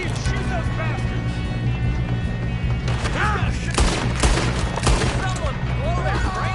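Gunfights in Red Dead Redemption II: rapid bursts of overlapping gunshots and booming blasts crackle through a busy battle scene, with shouting voices and a steady low background hum.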